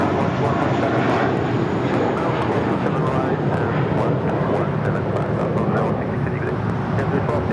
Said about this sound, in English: They're on that JetBlue Airways A320 heading to Windsor LAX